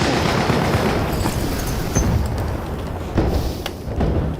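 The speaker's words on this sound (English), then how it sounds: "Grenade lancée." Grenade blasts in the video game Battlefield 1 roll through a dense, continuous wall of battlefield rumble, with heavier booming bursts standing out twice near the middle and end.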